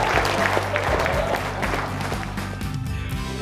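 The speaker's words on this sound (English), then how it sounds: "Give yourselves a huge round of applause." Wedding reception guests clap in a sustained round of applause that gradually thins out, with some voices mixed in.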